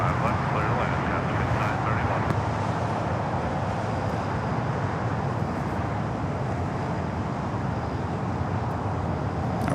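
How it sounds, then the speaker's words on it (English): A United Boeing 777 airliner bound for Honolulu at LAX gives a loud, continuous jet roar that stays steady throughout, with faint voices mixed underneath. "got that United 777, the flight heading to Honolulu"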